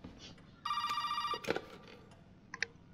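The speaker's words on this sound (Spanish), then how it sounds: "Uf, qué susto me ha dado el puto teléfono" A ringing telephone in the horror video game Resident Evil 7, one bright electronic trill lasting under a second, followed by a few scattered knocks and clicks against a quiet, murky background.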